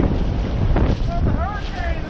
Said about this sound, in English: So it's really windy.